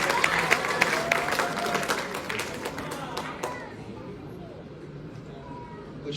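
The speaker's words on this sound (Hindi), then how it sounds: "थोड़ा जोर से ताली बजाओ भाई।" Scattered applause from an audience at an award ceremony, a moderate patter of hands that trails off after a few seconds into quieter room noise and murmured talk.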